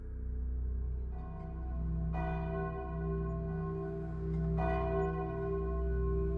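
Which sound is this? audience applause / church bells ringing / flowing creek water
church bells ringing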